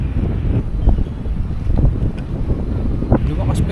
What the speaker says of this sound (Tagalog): Lumakas pa yung hangin oh.